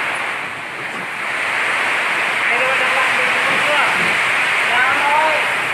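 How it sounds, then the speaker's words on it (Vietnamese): Heavy rain pours down in a storm, a dense, steady hiss with wind gusting over it, and voices talk underneath. "Giờ thì mưa to rồi."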